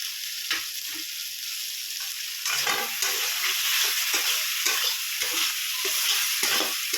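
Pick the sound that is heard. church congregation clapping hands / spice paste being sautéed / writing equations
spice paste being sautéed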